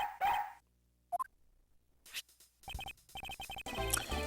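A dog in the detective game Ace Attorney Investigations: Miles Edgeworth on Nintendo DS gives short synthesized barks and yips, then a rapid run of sharp barks with game sound effects, close and clear.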